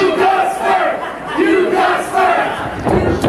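Wrestling crowd at the PWA Christmas Slam '14 match between Frenetico and Brett Morgan roars and yells in surging waves, loud and close, rising and dipping several times over a few seconds.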